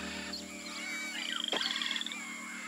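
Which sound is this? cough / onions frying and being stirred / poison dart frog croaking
poison dart frog croaking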